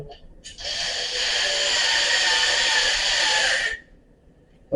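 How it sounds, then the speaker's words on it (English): A power drill whines steadily at high speed for a few seconds, close by, driving screws while assembling a pub table and stool, then cuts off abruptly. "See how fast this is with the drill?"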